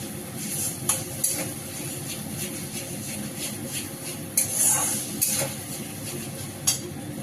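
Ground yogurt-mustard spice paste is stirred in a pan, with a steady soft sizzle underneath and a few sharp clinks of a utensil scraping and tapping against the metal at irregular intervals.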